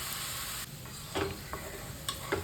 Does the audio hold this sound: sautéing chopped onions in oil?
yes